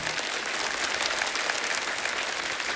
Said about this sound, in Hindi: वाह क्या तालियां बज रही